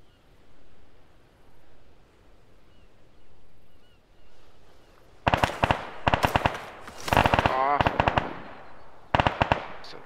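Gunfire in the Arma 3 Antistasi Ultimate mod: after quiet background noise, loud close bursts of rapid automatic shots arrive in several clusters, separated by short pauses.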